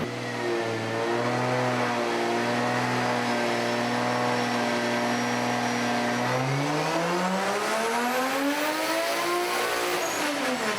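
A 2JZ-swapped Toyota 4Runner roaring on a dyno during a power pull, the engine holding a steady loud drone before climbing sharply in pitch as revs rise, close and alone.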